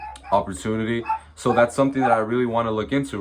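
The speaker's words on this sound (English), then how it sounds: "Excuse my dogs" Several dogs bark intermittently in the background beneath continuous close speech from a person talking, with the barks partly masked by the voice.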